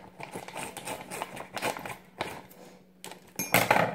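Scissors snipping open the top of a plastic bag of frozen berries, with crinkly rustling of the packaging between a few close, quiet cuts and a louder crinkling burst near the end.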